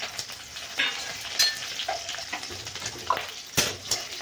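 Chopped onion dropped into a hot pan and frying, a crackling sizzle with scattered pops and brief stirring clinks, close and moderately loud, without speech.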